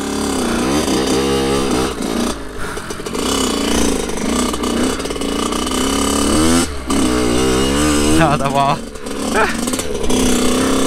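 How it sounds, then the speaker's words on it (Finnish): A Kawasaki KX 80 motocross bike is ridden close by, its small two-stroke engine buzzing high and revving up and down continuously while someone talks over it. "On muuten vähän jännä ajaa näin pienellä mopolla."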